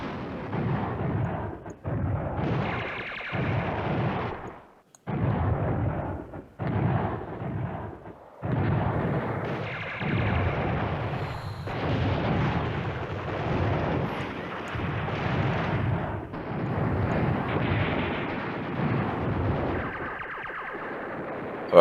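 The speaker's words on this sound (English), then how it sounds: "let that artillery help us out there" Artillery from the Command Ops 2 war game booms again and again in heavy, rumbling bursts, some overlapping and some split by short silences, loud and close throughout.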